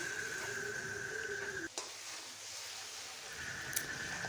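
Taro leaves (kochu shak) and chickpeas fry in a pan with a continuous close sizzle. The sizzle briefly drops out partway through, then resumes.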